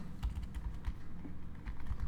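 Quick computer keyboard typing, a steady run of close, crisp key clicks while code is entered, with no talking.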